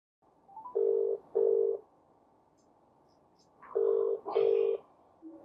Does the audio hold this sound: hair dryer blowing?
no